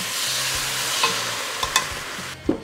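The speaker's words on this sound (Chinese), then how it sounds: "我们就可以把我们的材料放下去爆一爆，炒一炒" Steady sizzling of pepper shrimp ingredients being stir-fried in a wok, with a few sharp scrapes and clatters of the spatula against the metal rising above the constant hiss.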